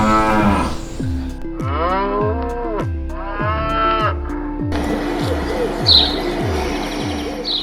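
Longhorn cattle on a Texas farm moo in long drawn-out calls, several in succession, over a regular rhythmic mechanical thumping, with birds chirping faintly in the background.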